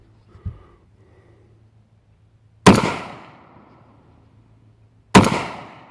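A Rock Island 22 TCM pistol fires two loud, sharp gunshots at an outdoor range a few seconds apart, each crack followed by a short ringing decay, with a faint thump earlier in the quiet.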